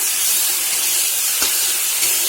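Tomatoes sizzling in hot oil for a fish curry, a steady bright hiss that holds evenly for the whole short stretch with no voices.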